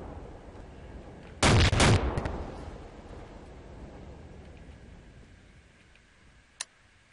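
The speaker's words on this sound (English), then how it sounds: "Why are you shooting at me?" A short, loud burst of rapid gunshots in Garry's Mod over steady background noise, followed by quiet and one faint sharp click near the end.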